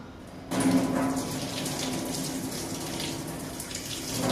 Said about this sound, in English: When rinsing, make sure to point the elbow downwards and pass the water only one time.